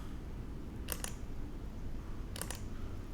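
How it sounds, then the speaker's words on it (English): Two quick double clicks from a computer mouse, close and crisp, about a second and a half apart over a steady low hum. "Why am I clicking on this?"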